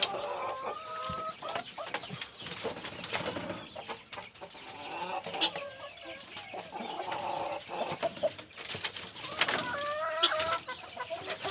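Many chickens cluck and call continuously on a poultry farm raising BV380 layer hens, a dense, busy flock chorus with overlapping squawks and chatter close by throughout.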